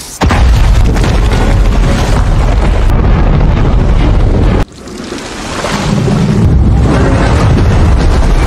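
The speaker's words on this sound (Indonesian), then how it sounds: "Seketika terjadi ledakan hebat hingga menghancurkan tanggul." A massive, loud film explosion destroys a dam, a roaring blast rumbling continuously, then a sharp cutoff followed by a renewed surging roar like rushing debris and water.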